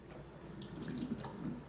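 Tap water running steadily into a pot holding a cup of cornmeal, a soft continuous pour with light splashing throughout, fairly quiet and close.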